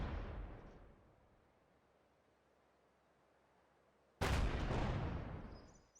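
Two heavy tank cannon blasts in Company of Heroes 2: a booming shot fading into a long rumbling decay, then a second sharp, loud blast a few seconds later, no voices.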